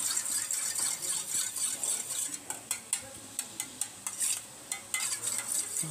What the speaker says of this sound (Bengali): দইটাকে পুরো ফেটিয়ে নিচ্ছি, ফুল ফেটিয়ে নেবো, এটা একদম ব্লেন্ড করে নেবো